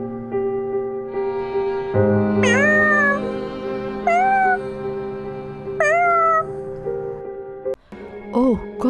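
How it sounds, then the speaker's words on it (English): Cats meow repeatedly indoors, several drawn-out rising and falling cries spaced a second or two apart, loud and close over a steady background hum, with a pair of quicker meows near the end. "This scene is about a male student is doing his assignment and got disturbed by cats."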